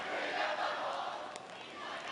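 A large crowd of Hong Kong umbrella march protesters moves along city streets, a dense steady roar of many voices and shuffling feet with a brief sharp knock partway through.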